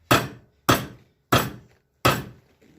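A hammer strikes a metal car part in a garage four times at an even pace, each a sharp, close, ringing clank that quickly dies away.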